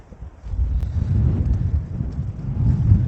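Strong wind buffets the microphone on a golf course, a loud, continuous low rumble with gusting swells and no talk.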